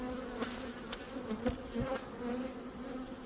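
A honeybee colony buzzes steadily during a hive inspection, a dense close drone with individual bees flicking past now and then.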